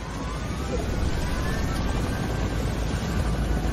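A helicopter in a video game gives off a steady, dense, whooshing drone of rotor and engine noise that fills the whole stretch at an even, fairly loud level, with no clear speech over it.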